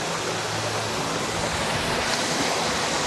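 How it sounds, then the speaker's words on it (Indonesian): Steady broadband rush of the Tanjung Suari waterfall beneath a camphor forest, a continuous close roar of falling water with no voices. "Ini air terjun"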